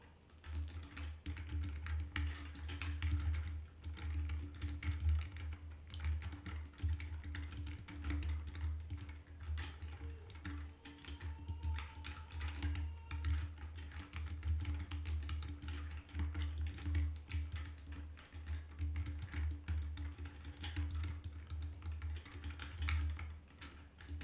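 Steady typing on a Harite v3 keyboard, a quick continuous patter of keystrokes close by, with no voices.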